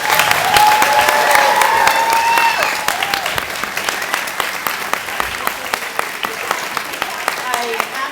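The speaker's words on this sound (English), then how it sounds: "Let's give them one more round of applause." Parents at a school theater clap for fourth grade performers, a full round of applause with a few cheers that settles into sparser, distinct claps, with voices murmuring underneath.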